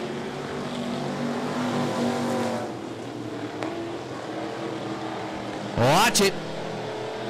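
Race cars battle on a short track during an early lap, engines droning steadily under a commentator's voice, with a brief louder burst of a car sweeping close past near the end.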